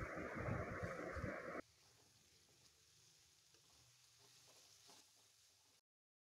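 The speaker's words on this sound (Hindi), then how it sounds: "बहुत ही आराम से इसको चलाएंगे।" Soya chunks pulao sizzles loudly in a pan while being stirred, then the frying drops to a faint, quieter simmer with soft scraping for the rest.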